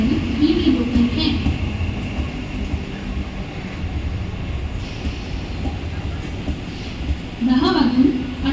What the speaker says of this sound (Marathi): प्लॅटफॉर्म क्रमांक 1 पर आई हुई लोकल 10:17 की कल्याण जाने वाली धीमी लोकल है